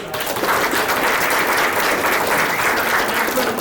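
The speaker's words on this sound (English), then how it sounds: "So I'd like to give John a round of applause." Audience applause at a chess club lecture, a steady, dense wash of clapping from a sizeable crowd that holds at full strength for the whole few seconds.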